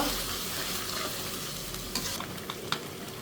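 Ground spice paste fried in oil with water added, giving a soft continuous sizzle and faint stirring, with a few brief clicks near the end; quiet and no talking.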